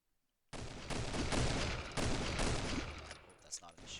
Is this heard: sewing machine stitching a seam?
no